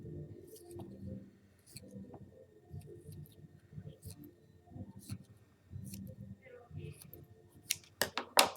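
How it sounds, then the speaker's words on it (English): Scissors snip triangles from a long strip of material for an emoji mosaic, giving soft, close, repeated cuts in an uneven rhythm, with a few sharper clicks at the end and a voice talking faintly underneath. "cut a nice long strip, tilt and cut triangles"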